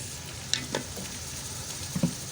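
Onions frying golden in a pot for tori ki handi, a soft continuous sizzle with a few light stirring clicks and scrapes, close but fairly quiet.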